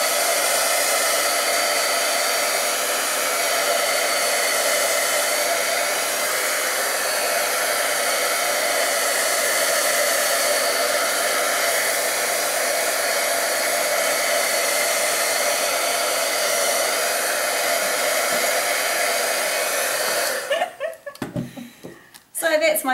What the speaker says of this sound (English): I'm not going to talk while the heat gun's going because you won't be able to hear me